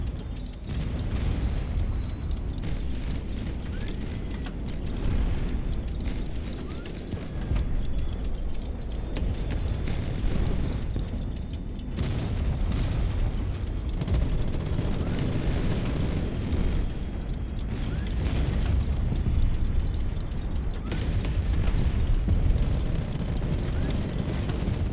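Missiles being shot down in a video game set off a dense, unbroken barrage of booming explosions and bursts, loud and continuous throughout with rumbling low end and crackling on top.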